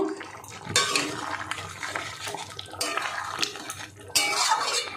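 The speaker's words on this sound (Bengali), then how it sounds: "এই ভেজে রাখা পনিরটা দিয়ে দেব। একটু মিশিয়ে দেব।" Fried paneer is stirred into potato curry in a pan, with close metallic spoon scrapes and clinks against the cookware amid wet, squelchy mixing.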